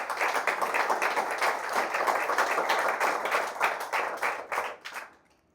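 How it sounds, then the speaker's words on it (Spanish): A church congregation applauds together, dense steady clapping for about five seconds that thins out into a few last claps before stopping. "Dale un aplauso al Señor"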